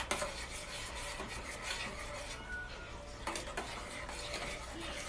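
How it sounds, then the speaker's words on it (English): A spoon stirs a spoonful of thickener into a berry sauce in a pan, a soft, continuous scraping and rubbing with faint utensil clinks, fairly quiet and steady with no talking. "And I only want about a teaspoon. And just stir it in."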